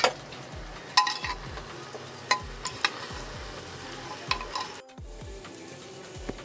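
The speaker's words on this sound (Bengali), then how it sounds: "চালটাকে একসাথে ফ্রাই করে নিয়েছি" Rice and vegetables fry together in ghee for a Bengali New Year meal, giving a soft steady sizzle under repeated scraping strokes of a spoon against the pan and a few sharp metallic clinks.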